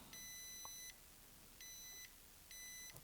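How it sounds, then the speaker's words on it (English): A multimeter gives continuity test beeps on a Commodore PC-10 circuit board being repaired: three sharp, high electronic tones, the first and longest near a second, with short gaps between, quiet and close in an otherwise still room. "So let's just quickly check for continuity."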